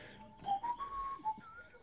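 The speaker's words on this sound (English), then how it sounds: "I must stop whistling other people's music, or they will sue me." A person whistles a short melodic tune, the pitch sliding up and stepping between notes in a few bright phrases, clear and fairly close in a quiet room.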